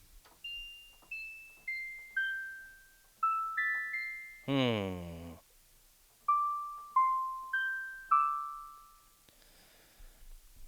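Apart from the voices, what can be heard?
bell sound in a music production beat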